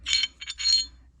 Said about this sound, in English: I'm going to take out the recoil spring and guide rod